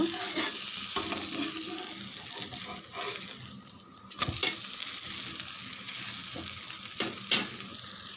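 Rava dosa batter sizzles steadily in oil on a hot pan, a dense continuous frying hiss with a few faint clinks and scrapes near the middle and end.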